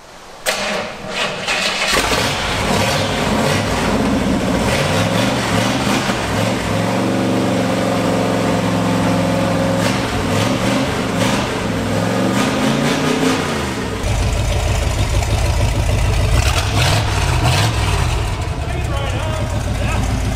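A Buick 455 V8 engine runs in a flooded, totaled LeMans Gambler muscle car, rumbling steadily and loud for the whole stretch with a deeper throb toward the end, while people talk over it.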